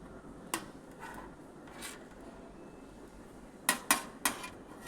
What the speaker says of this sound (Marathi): छानपैकी एकदम बारीक कट करून घ्यायचं आहे